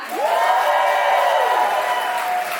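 Applause and cheering from a comedy audience at a New York one-liner contest, a loud whoop starting sharply then sustained clapping and shouts over a couple of seconds, continuous and close.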